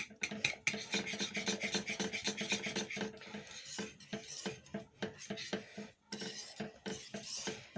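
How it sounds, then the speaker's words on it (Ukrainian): Custard cream being stirred in a pot, a spoon scraping and clinking against the sides in a quick, steady rhythm with brief pauses, close and fairly loud, no voices. "Ще раз гарно перемішую."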